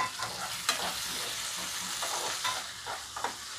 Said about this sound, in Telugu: ఆ టమాటాలను ఇలా కట్ చేసుకుని ఇందులో వేసుకుంటున్నాను.